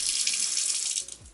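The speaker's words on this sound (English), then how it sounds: "Turn the water on." Water from a turned-on tap in an RV runs in a steady hiss for about a second, then cuts off near the end with a few faint clunks.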